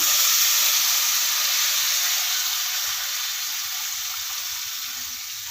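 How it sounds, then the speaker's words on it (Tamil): Steady broadband hiss and bubbling of tamarind water boiling vigorously in a pan, constant throughout with a slight fade toward the end, no voices. "புளி வந்து நல்லா கொதிச்சுட்ருக்கு பாருங்க"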